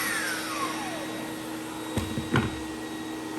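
A vacuum cleaner runs steadily, a constant whining motor drone with a falling pitch sweep early on and a couple of brief bumps and knocks partway through.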